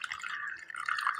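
Water poured over almond gum (badam pisin) to soak it, a soft steady trickle and splash of liquid filling a bowl, continuous and close for a moment.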